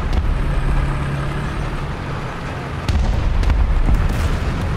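A T-44 tank blown up in War Thunder ground realistic battle: a rumbling engine-and-battle drone, then a louder sustained roar with sharp blasts near the end.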